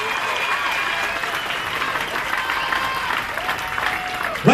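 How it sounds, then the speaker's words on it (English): A crowd at a women's boxing event applauds steadily after the opening bout, a dense, even wash of clapping with a voice faintly heard over it. "a big round of applause to both ladies for a fantastic opening contest"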